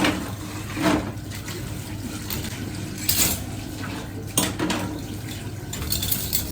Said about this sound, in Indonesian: Apa kalian bisa melihat saya mencuci piring atau tidak ya?